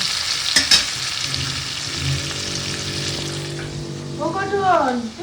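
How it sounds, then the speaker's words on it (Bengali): Fish frying in a pan, a steady close sizzle with brief clinks and stirring noises, with a voice speaking over it toward the end. "এখানে দুটো মাছ ফ্রাই করে"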